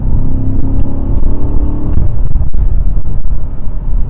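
A BMW M8 Competition engine in sport mode, a loud, close, continuous rumbling drone with a brief rev swell, heard from inside the car with no talk.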